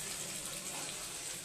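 Water pours in a continuous, even rush into a pot of khichuri with fried onions, a close and steady gushing splash with no break.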